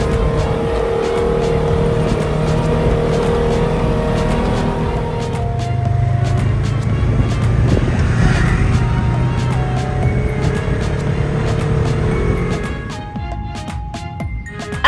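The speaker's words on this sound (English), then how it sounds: "Back on the buggies, we continue our journey." Dune buggies drive across desert sand, engines droning loudly and continuously up close with shifting revs and clattering rattles, easing off slightly toward the end.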